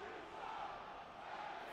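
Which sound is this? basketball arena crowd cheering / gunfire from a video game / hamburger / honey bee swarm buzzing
basketball arena crowd cheering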